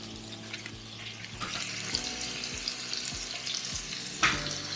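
Ribeye and brisket sizzle and spatter in hot oil on a home Korean BBQ grill, making a constant frying crackle with scattered sharp pops and one brief metallic scrape, with no talk.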